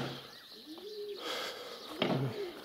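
Pigeons coo softly nearby in two or three low, rolling calls, with faint background noise and no voices.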